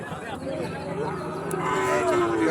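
Sahiwal cattle at a busy cattle market, with a drawn-out moo rising and sliding downward, moderately close, over a steady wash of crowd noise and nearby talking.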